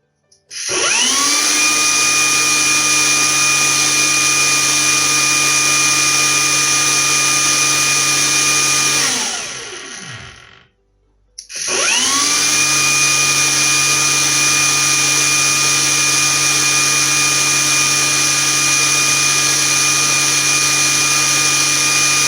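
Hilti TE 700 AVR rotary hammer, a 110V machine running on 220V, whines at a steady high pitch for about nine seconds and winds down. After a brief silence it starts again and runs loud and continuous to the end.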